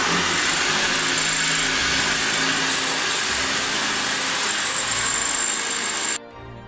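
Power drill boring into a metal saw blade axe, a loud, sustained high-pitched grinding whine that holds steady throughout, then cuts off suddenly at the very end.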